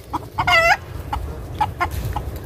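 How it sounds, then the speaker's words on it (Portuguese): Cinnamon ducks on a farm give a run of short, nasal calls, a few quick bursts and one longer drawn-out cry, close by over low background rumble. "Aqui tem mais uns pato canela, tá?"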